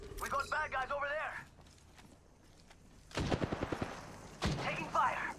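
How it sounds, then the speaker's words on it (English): Bursts of automatic gunfire in the Apex Legends video game, a rapid clattering volley followed by another sharp burst, with a voice talking over the opening seconds. "Taking fire"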